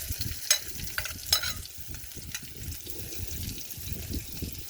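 Garlic sizzling in hot oil in a pan with onion and curry leaves for a soya curry, a soft steady frying hiss with a few sharp crackles and spoon scrapes early on, close and fairly quiet, with no speech.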